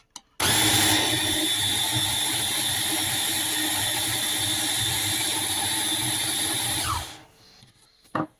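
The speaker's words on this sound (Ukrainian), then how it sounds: "У кого є такий блендер, це дуже класна штука." A kitchen blender whirs loudly and steadily for several seconds while making homemade cutlets, then winds down and stops, with a couple of brief clicks around it.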